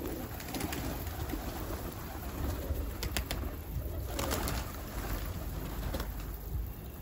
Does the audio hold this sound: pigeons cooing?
yes